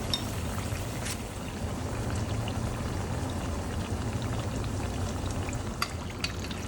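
Taro pieces deep-frying in hot oil give a steady, dense crackling sizzle with occasional sharper pops, close and fairly loud throughout, with no talking.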